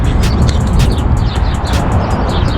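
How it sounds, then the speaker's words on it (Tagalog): Many birds chirp and tweet in a tree over a loud, rushing outdoor background in Kuwait, with short repeated calls layered densely throughout. "Daming ibon. Narinig nyo, puro ibon siya."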